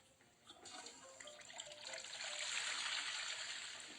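A toilet flushing in a hotel bathroom, a rising rush of water that swells and stays loud and close to the end, alone with no talk.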